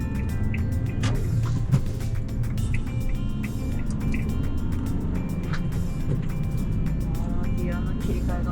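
A kei van with a manual transmission rumbles along at a steady, moderate level, its engine and road noise running beneath people chatting inside.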